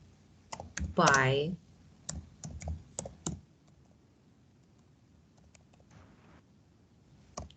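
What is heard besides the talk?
typing on a computer keyboard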